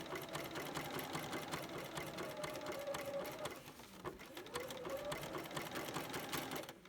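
A domestic sewing machine runs steadily, stitching appliqué on an orange peel quilt border. The close, continuous mechanical whir pauses briefly partway through, then resumes.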